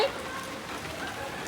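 Rain falls steadily in Surat during a sudden change in the weather, a soft, even patter of drops on surfaces that holds at a constant level throughout, with no voices heard.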